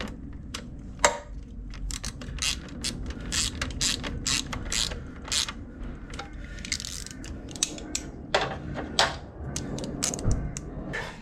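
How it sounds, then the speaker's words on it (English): Rapid ratchet clicking while nuts are tightened on a car's timing belt components, steady close-up bursts of mechanical clicks with brief pauses, no talking. "I'm going to tighten that 16 now."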